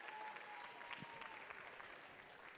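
Steady applause from an audience at a FIRST Tech Challenge robotics qualifier, many hands clapping at an even level throughout with no break.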